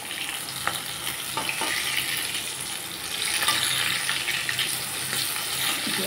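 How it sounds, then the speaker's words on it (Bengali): Fish pieces fry in hot mustard oil with a steady crackling sizzle, and the sizzle swells as the fish are flipped in the pan, close and continuous. "এখন মাছগুলো উল্টে দিচ্ছি।"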